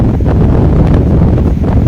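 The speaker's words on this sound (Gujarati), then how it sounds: "ખૂબ જ પવન છે પવનનો અવાજ પણ તમને આવતો હશે" Strong wind on Shivrajpur beach at night, a steady loud roar and buffeting across the microphone with no pauses, dense low rumble throughout.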